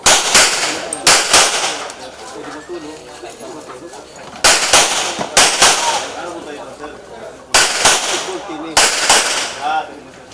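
Gunshots ring out at a police firing range competition of the Police Regional Office 9 in Mercedes, Zamboanga City: sharp, loud reports in quick clusters of two or three, separated by pauses with a faint murmur between.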